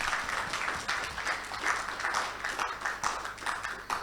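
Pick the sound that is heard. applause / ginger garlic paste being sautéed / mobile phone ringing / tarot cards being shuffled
applause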